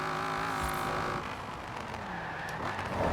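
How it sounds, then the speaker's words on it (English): Camaro IROC Z engine in the racing game Forza Horizon 4, a continuous low engine drone with shifting revs and faint tire noise, heard alone without talk. "Oh, this engine is awful, man. It sounds so bad."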